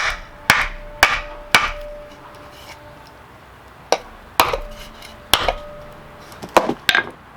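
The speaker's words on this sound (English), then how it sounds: "So, just pound the grease seal with a block of wood." A block of wood hammered onto the grease seal of a fifth wheel trailer wheel hub, about ten sharp close knocks in irregular clusters with brief ringing decay after each blow.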